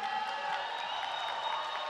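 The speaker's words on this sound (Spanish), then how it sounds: "Acompañar un aplauso también, por favor." Concert audience at the Vive Latino 2023 festival applauding a choir, a steady, dense wash of clapping and crowd noise that continues without a break.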